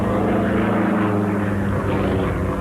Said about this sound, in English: Next are 4 vertical rolls upward, leading into a helicopter-type torque roll